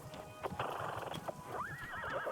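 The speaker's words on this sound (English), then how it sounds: "Whoa, someone's horse out here?" A horse in the cozy tea shop video game Wanderstop, with hoof clip-clops and several snorts leading into a clear, rising whinny, heard alone and fairly faint.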